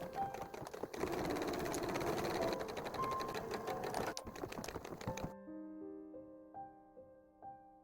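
A sewing machine stitches along the inner pocket opening of a fabric tablet sleeve with rapid, steady mechanical chatter, close and clear, then stops abruptly, leaving faint tonal background sounds.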